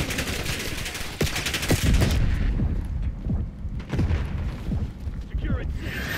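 Dense, continuous gunfire and scattered explosive bangs during a Call of Duty: Black Ops 6 multiplayer match, with a voice talking over the shooting throughout.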